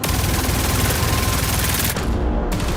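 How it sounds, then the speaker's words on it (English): Rapid automatic turret fire from a defender system shooting grenades out of the air in the Marathon video game, a loud continuous burst of rattling shots with a brief dip near the end. "You're able to put down this defender system that shoots down grenades out of the air."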